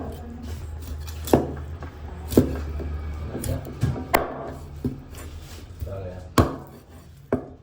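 A knife chops through a fresh fish on a cutting board, slicing it into round pieces with sharp, irregular thuds and knocks spaced a second or so apart, close up.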